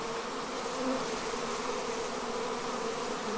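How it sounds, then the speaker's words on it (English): A collected honeybee swarm buzzing near a hive entrance, a dense continuous hum of many bees, steady and fairly close with no voices. "that is a swarm that we collected that was actually with this queen"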